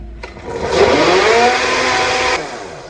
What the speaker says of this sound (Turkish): Galiba blenderım bozuldu.